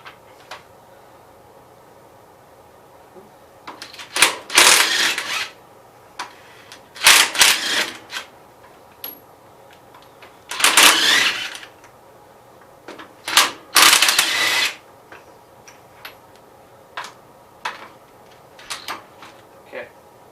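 A ratchet with a 3/4 socket removes bolts from the side cover of a 1973 Gravely 810 tractor, heard as repeated bursts of fast, loud clicking separated by pauses, with faint scattered taps between them.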